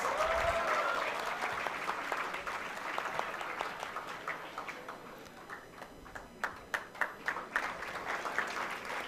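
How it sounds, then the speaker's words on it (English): Applause from an audience at a conference awards ceremony, dense clapping that thins into scattered, distinct claps toward the end. "Please give a big round of applause"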